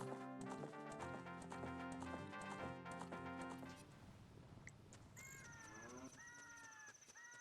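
Clip-clop of the horse Epona's hooves in Zelda: Ocarina of Time, a steady galloping rhythm over game music, fading to lighter ambient sounds with bird-like calls toward the end.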